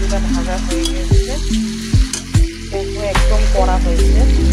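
Sesame seeds being dry-roasted until crisp in a pan for a tomato pickle, giving a steady frying sizzle with a few sharp scraping stirs throughout.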